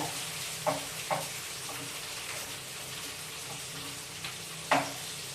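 Peppers frying in a pot for an Adana-style head meat dish, a steady broad sizzle throughout with a few sharper crackles and pops standing out, close and alone with no talking.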